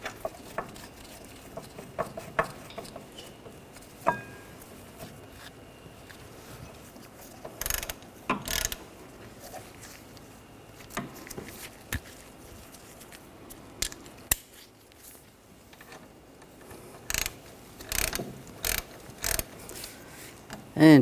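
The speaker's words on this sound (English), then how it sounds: "Take the bolts, get those started." A ratchet tightening the brake caliper bracket bolts on a Ford Escape, heard as bursts of quick clicking strokes that come and go, with pauses between them, over quiet garage background.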